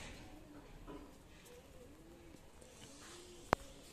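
Soft, repeated low cooing of pigeons, fairly faint against a steady background hum, with a single sharp click near the end.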